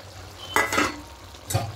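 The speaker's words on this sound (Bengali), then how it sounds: "এবার এখানে ভেজে রাখা চিংড়ি মাছগুলো দিয়ে দেবো।" Fried prawns stirred into cooked spinach with potatoes in a pan, with a low, steady sizzle broken by two or three short, louder bursts of spatula scraping and tossing close by.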